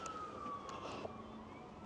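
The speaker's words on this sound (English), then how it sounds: "listen to those sirens in the background" A siren wails steadily in the distance in Blackpool, a long tone sliding slowly downward beneath a hum of background noise.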